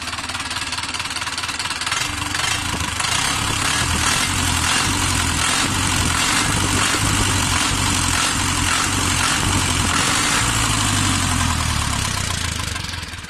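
A car engine idling smoothly, a loud, close, steady rhythmic chugging with a fine clattering pulse that runs unbroken throughout, with no talk over it.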